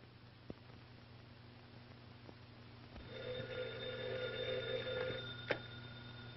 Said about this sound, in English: Telephone. Telephone.